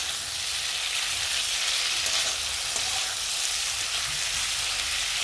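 Taro and meat fry in a pan for an Assamese dish, giving a constant dense sizzle with no talk.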